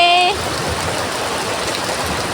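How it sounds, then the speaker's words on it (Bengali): Steady rain hiss pours down throughout, broadband and even, with a brief tonal whistle at the very start before the downpour continues alone. "দেখো আমাদের এদিকে বৃষ্টি শুরু হয়ে গেছে।"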